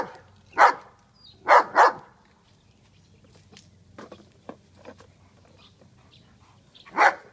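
A dog barks in a few sharp, separate bursts, two of them close together, with quieter sounds in the gaps and a faint low hum underneath.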